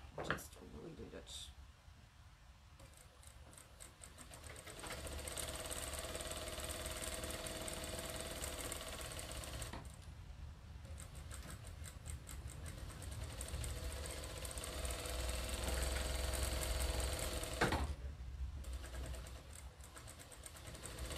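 A sewing machine stitches joined half-square-triangle quilt pieces in burgundy and gold, running in long steady mechanical stretches broken by short pauses, fairly quiet and close.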